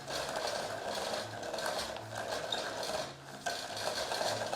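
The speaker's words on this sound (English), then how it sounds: "I can knit with it with my carriage" Knitting machine carriage knitting sheer-test yarn, a steady mechanical clatter and ratcheting whir running continuously at close range with slight rises and a brief dip, no talking.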